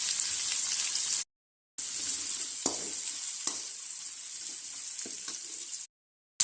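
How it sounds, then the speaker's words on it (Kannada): Dry red chillies frying with onion and garlic in hot oil, a steady loud sizzle broken by two short silent gaps, with light stirring scrapes and occasional crackles. "ಈರುಳ್ಳಿ ಸ್ವಲ್ಪ ಬಾಡದ್ಮೇಲೆ ಒಣಮೆಣಸಿನ್ಕಾಯಿನ ಹಾಕ್ತಾಯಿದ್ದೀನಿ."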